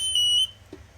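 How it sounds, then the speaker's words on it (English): A Niftylift HR28 lift sounds a steady, loud high-pitched electronic alarm tone for about half a second right after being switched on, then cuts off, leaving quiet hum and a faint click. "That's why there is a beeping tone when I switch the machine on."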